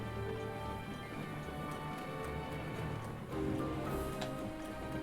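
Steady rain falls in The Legend of Zelda: Breath of the Wild, a soft hissing patter with scattered ticks under sustained game music tones, even throughout with a slight lift near the end.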